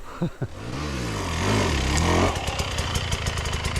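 A dirt bike climbs a hill with a rider working his way up. The engine revs rise and fall at a moderate distance, then settle into a choppy, pulsing throttle near the end.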